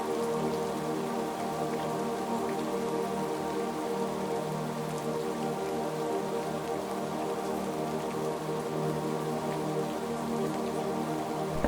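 Rain falls steadily outdoors for about twelve seconds, a dense, even hiss of drops on surfaces with no letup and no voices.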